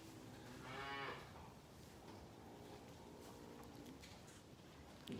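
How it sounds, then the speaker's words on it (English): A cow on a farm moos once, a fairly close low drawn-out call early on, then quiet farm ambience with a faint sound at the end. "I've got some cows coming in as well"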